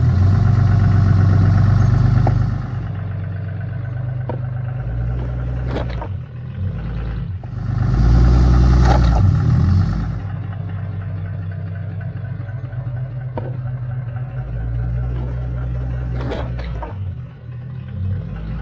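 A pickup truck engine drones steadily as it creeps up onto Bunker Indust traction recovery boards, a low continuous rumble that swells louder for a few seconds midway and then settles back to an even idle-like hum.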